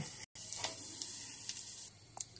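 Chana dal and urad dal frying in oil for a South Indian tempering: a steady, even sizzle throughout with a few faint pops and clicks, broken by a brief dropout near the start, with no voices.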